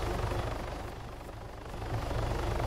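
An Arma 3 helicopter drones steadily nearby with a continuous rotor and engine roar, dipping slightly mid-way and swelling again, with no talk over it.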